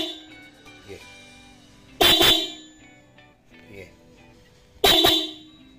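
Two loud, close blasts from Korsa disc-type car horns, the 55BO and 60BO pair sounding high and low tones, a few seconds apart, with a quiet voice and faint background noise between them.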